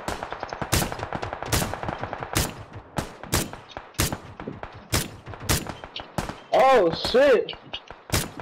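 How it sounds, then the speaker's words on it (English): Gunfire in PlayerUnknown's Battlegrounds, with sharp rifle shots cracking at a steady rhythm across the clip and a brief swell of other game sound near the end, while a player exclaims over the shots. "Too many shots."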